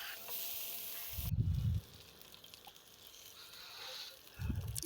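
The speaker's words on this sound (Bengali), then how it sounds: "ফ্রাই প্যানে সামান্য একটু তেল দিয়ে মুরগিটা হালকাভাবে ভেজে নেব।" Chicken pieces fry lightly in a little oil in a frying pan for a chicken roast, with quiet hissing sizzle broken by two short bursts of stirring and scraping, all faint and close.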